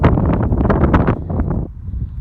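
Strong wind buffeting the microphone on the River Thames foreshore, a loud continuous low roar with gusty fluctuations throughout.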